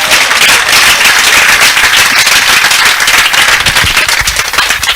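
A church congregation applauding the Lord in loud, dense, continuous clapping that fills the space evenly, with no voices standing out above it.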